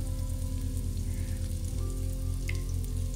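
Spices fry in a little oil in a pan, a steady close crackling sizzle that runs unbroken from start to finish over a low constant hum, with no talking.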